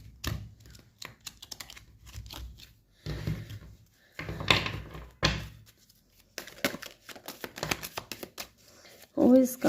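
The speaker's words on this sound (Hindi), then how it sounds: "पहले इनको भी शफल करूँगी गाइस" Tarot cards being shuffled by hand in a quiet indoor setting, with soft repeated riffling and flicking bursts over several seconds, interrupted at times by someone talking.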